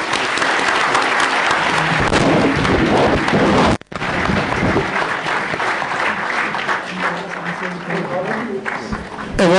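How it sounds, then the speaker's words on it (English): Thunderous audience applause following a UN lecture at Sapru House, a dense sustained roar of clapping from a large crowd that cuts out briefly and then swells again, with a voice over it. "May I request all of you to join me in a thunderous applause."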